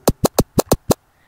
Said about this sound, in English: scratches on deck A sound like this